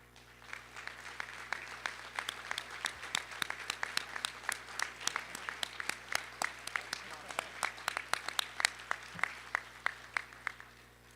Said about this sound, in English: I want to give a big round of applause to the 2024 MACO Board of Directors.